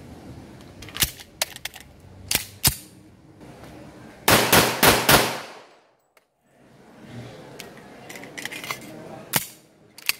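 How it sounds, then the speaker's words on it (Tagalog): A RIA TAC Ultra M191 pistol from Rock Island Armory fires a series of sharp gunshots, single shots then a fast cluster of four or five, loud and close, with short pauses between groups. "iputok po natin siya para makita natin yung accuracy niya, yung recoil. Firing!"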